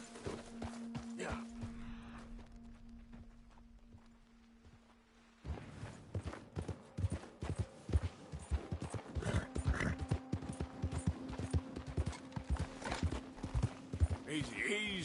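Horse hooves clip-clop in the Red Dead Redemption 2 video game, starting with a quieter stretch, then a busy run of rhythmic hoofbeats with a whinny, mixed with a tonal hum and a voice speaking to the horse.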